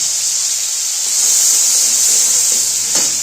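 A paste of garlic, onion and green chilli hitting hot oil in a pan throws up a loud, sustained steamy hiss that barely varies, with faint clinks near the end.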